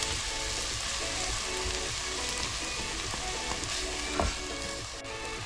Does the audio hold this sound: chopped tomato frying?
yes